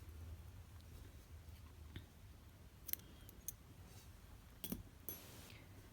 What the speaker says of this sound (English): and then you can just go through here and then just cut that piece off.